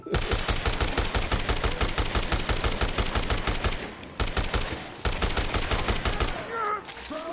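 Machine gun fire in the video game Dead Rising Deluxe Remaster: long rapid bursts of loud shots with two brief pauses, and a voice speaking faintly underneath.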